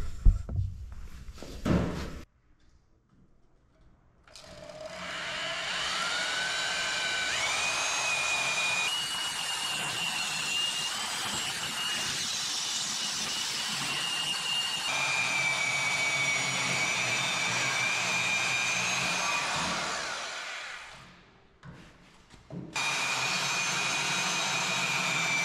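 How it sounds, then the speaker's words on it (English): A bandsaw cutting scrap steel in a workshop, a loud continuous whine and grind with a steady high metallic tone that runs for about sixteen seconds, stops, then starts again after a short pause. "I think I want to cut the rest of them with the bandsaw."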